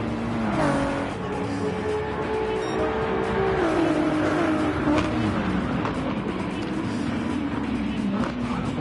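Racing car engines in Gran Turismo 7, including a BMW running wide behind, roar and shift pitch through gear changes and cornering, a sustained close whine with rising and falling tones.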